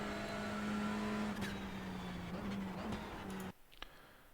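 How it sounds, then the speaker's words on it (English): A TCR race car in a racing video game at Daytona holds a loud, steady engine drone, with brief blips as it downshifts, before the engine note cuts off abruptly near the end. "if you listen to the downshifts, it's brake on the cone, downshift, downshift, downshift, and then turn in"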